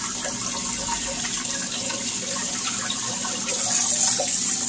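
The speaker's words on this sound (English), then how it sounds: "You want to rinse all that salt and vinegar off of it." Tap water runs steadily into a sink while crawfish are rinsed of salt and vinegar, a continuous close splashing hiss that grows slightly louder near the end, with no talking.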